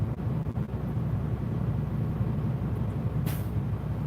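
A semi truck's diesel engine idles at a lowered speed, a steady low rumble throughout with a brief hiss near the end, fairly close and with no speech.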